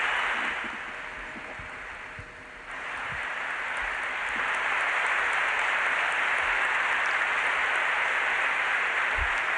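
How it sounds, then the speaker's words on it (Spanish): Sustained, dense applause fills St. Patrick's Cathedral for Pope Benedict XVI, dipping briefly before swelling back to a steady, loud roar of clapping from a large crowd. "El Santo Padre ha tenido que levantarse por lo efusivo del aplauso"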